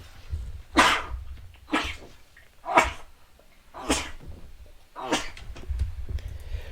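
Five sharp bursts spaced about a second apart, near and fairly loud over a low background rumble, from a person sneezing while playing MTG Arena.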